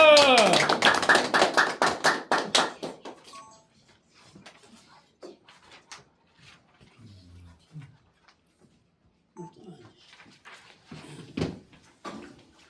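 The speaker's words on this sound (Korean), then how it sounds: "나오실 때 많은 박수로 환영해요" Church congregation applauding to welcome an elder to the pulpit, a loud burst of clapping at the start that quickly fades, followed by quiet room sounds and a few taps.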